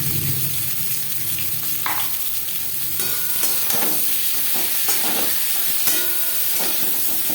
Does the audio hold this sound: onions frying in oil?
yes